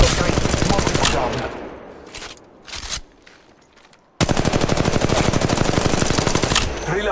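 Automatic weapons fire rapidly in the mobile hero shooter Apex Legends Mobile: a dense burst, a brief lull with a few scattered shots, then another long, loud, unbroken volley.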